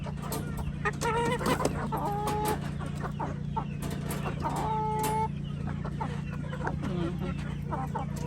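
Rhode Island Red chickens cluck repeatedly in a farm yard, several short bursts near and far over a steady low hum, with a voice speaking in the background.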